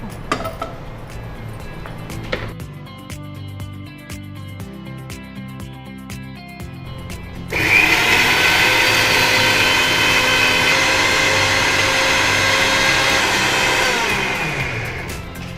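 A mixer grinder powdering dry roasted ingredients: first scattered clinks and short whirs, then the motor surges into a loud, steady high whine that holds for several seconds before easing off.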